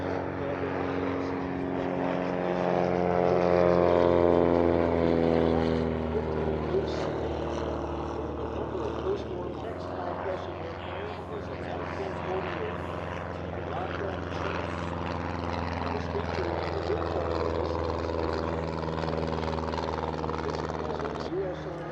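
Propeller airplanes fly past at the Oshkosh airshow, a sustained droning engine hum with a slowly shifting pitch lasting over twenty seconds, while a voice talks over it.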